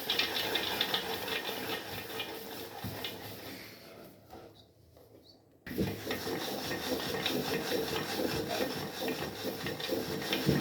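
A thick peanut croquette mixture with flour is stirred and turned in a bowl, making continuous gritty scraping and rubbing. It briefly quiets for about a second before the stirring resumes at full strength.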